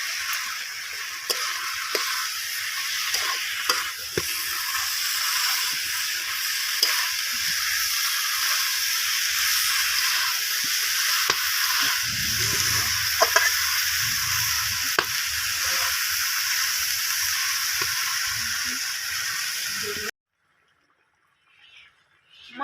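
Cabbage frying in spiced oil for a Bengali ghonto with katla fish head, a steady loud sizzle with occasional stirring clatter running about twenty seconds, then cutting to near silence.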